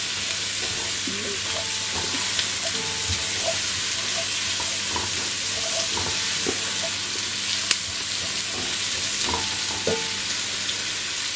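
Cabbage soup vegetables, including broccoli, sizzle and fry in a pan on a medium flame, a steady close hiss broken by scattered stirring clicks and scrapes, with no talking.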